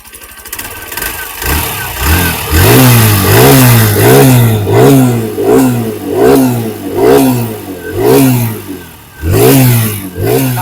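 A 2025 TVS Sport 110 motorcycle engine revs up and down repeatedly in a steady rhythm, loud and close, each throttle blip rising and falling.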